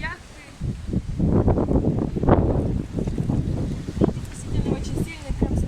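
Strong, gusty wind at a small Adriatic seaside harbour in Croatia with moored yachts, roaring and buffeting the microphone in loud bursts while a person talks over it.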